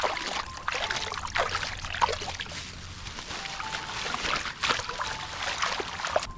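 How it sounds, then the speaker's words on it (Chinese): A small stream near a suburban campsite trickles and gurgles softly and continuously, fairly faint, with a few light splashes and no speech. "这边有条小溪流"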